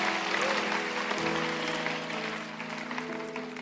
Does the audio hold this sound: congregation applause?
yes